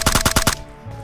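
Gunfire in PUBG Mobile on the Miramar map comes from the left as a rapid burst of about five sharp, loud shots, then cuts to near silence.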